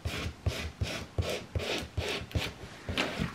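Vinyl plotter film being smoothed onto a balloon from the centre outward, heard as a steady series of rubbing, squeaky strokes about every half second, close and fairly loud with no talking.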